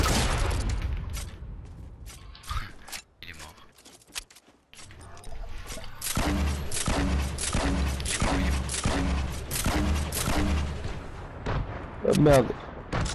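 Double rocket launcher fire in Fortnite Battle Royale: repeated booming explosions and rapid blasts, first scattered, then a dense rhythmic burst of shots in the second half, with players talking over the gunfire.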